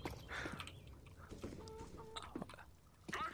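Chickens cluck in the CS:GO video game, a few short clucks and squawks over busy game noise, footsteps and background clatter, with no speech.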